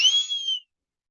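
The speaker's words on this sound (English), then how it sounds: "I love my whistles." A single sharp, shrill blast from a West German-made whistle, loud and close, lasting about half a second before cutting off to silence.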